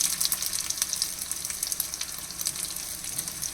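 Corn cheese balls crackle and sizzle in hot oil in a pan as they are turned over, with dense, steady bright frying throughout and small sharp pops.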